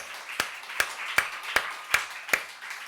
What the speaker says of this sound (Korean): 또 박수를 한번 올려봅시다.